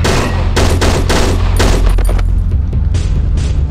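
Rifle fire in the horror video game Cry of Fear: loud, closely spaced shots crack out in a rapid series, then thin into a few sparser, quieter reports.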